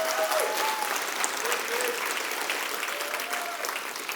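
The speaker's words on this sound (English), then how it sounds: "Let's give him a big round of applause." An audience claps continuously and fairly loudly for a guest at a financial freedom talk, with brief voices and cheers faintly over the steady applause.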